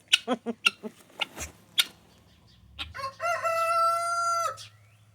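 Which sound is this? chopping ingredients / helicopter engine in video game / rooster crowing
rooster crowing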